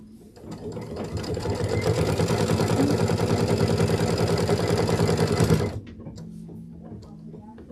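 A sewing machine stitches down a piece on a Flag House quilt block, running in a steady rapid motor chatter for about five seconds, close and loud, then stopping abruptly into quiet room tone.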